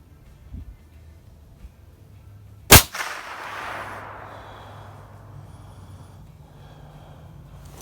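A single sharp, loud rifle gunshot, with a quick crack followed by a long rolling echo that fades over several seconds, outdoors at a range with distant steel targets.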